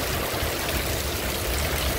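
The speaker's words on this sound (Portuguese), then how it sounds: "Esse é chuva que está caindo aqui em nossa região sertaneja." Heavy Sunday rain falling in Santana do Ipanema in the Alagoas backcountry, a dense, even hiss of water pouring and splashing on wet streets, steady and loud with no voices.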